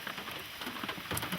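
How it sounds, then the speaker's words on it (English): Heavy rain on the fringe of Hurricane Fay in August 2008 makes a dense, unbroken patter on surrounding surfaces, steady and moderately soft throughout, with no voices. "We're on the fringe of Hurricane Faye, getting the rain"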